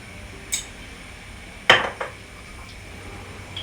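Metal spoon stirring tomato soup with spices in a pot, giving a few scattered clinks and scrapes against the pot, one sharper knock standing out, with no talking.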